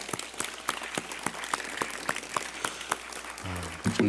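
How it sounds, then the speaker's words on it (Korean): Sparse, scattered clapping from an audience at a Catholic Marian evening service, with separate hand claps ringing out at an uneven pace before a brief burst of tonal sound near the end. "다시 한번 큰 박수 부탁드립니다."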